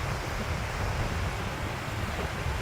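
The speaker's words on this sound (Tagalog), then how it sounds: "Grabe ng hangin." Strong wind gusting across a lake shoreline in St. Albans, Vermont, a steady loud roar with rushing, wave-like noise and buffeting on the microphone throughout, no voices.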